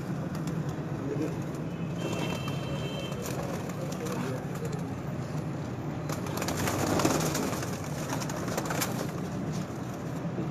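Flock of pigeons on a rooftop in Sialkot, soft cooing mixed into a steady outdoor murmur with faint chatter in the background, continuous and moderately distant throughout.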